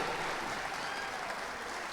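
Steady, dense audience applause for the musicians of the National Police band and orchestra, a continuous wash of clapping from a large crowd filling the whole stretch with no pause.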